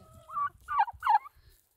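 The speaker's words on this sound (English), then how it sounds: "Pretty birds." Several turkeys gobbling at a farm near a milking parlor, three quick rattling gobble bursts in close succession, fairly near and alone with no talk.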